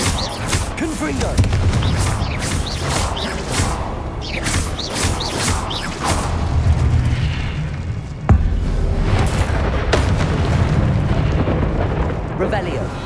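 Repeated Confringo fire spell explosions in Hogwarts Legacy, a steady barrage of booming blasts and crackling bursts over constant low rumble, with a sharp louder hit partway through and other game effects layered in.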